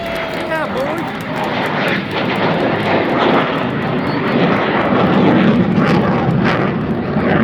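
SoloTürk F-16 jets flying a staircase formation during an aerobatic display over the Maltepe seaside park, a steady broad engine roar filling the whole stretch, with talk over it.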